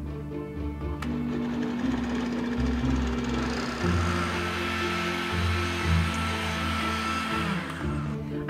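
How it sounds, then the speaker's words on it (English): A blender whirs steadily up close while blending a peanut butter, apple and oat smoothie with ice, its motor pitch shifting partway through as the contents churn; no voices. "Blend it together."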